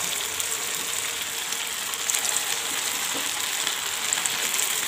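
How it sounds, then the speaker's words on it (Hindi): Sabudana vadas deep frying in hot oil over a medium flame, giving a steady, even hiss of bubbling oil with faint crackles, continuous and close throughout. "मीडियम फ्लेम में ही हम बड़े को फ्राई करेंगे।"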